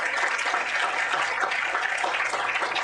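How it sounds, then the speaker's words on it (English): An audience claps steadily for former NFL player Benjamin Watson, a dense, sustained round of applause that fills the whole stretch without pause or talk. "Please give him a round of applause as we move outside."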